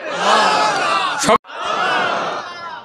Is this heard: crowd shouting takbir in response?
yes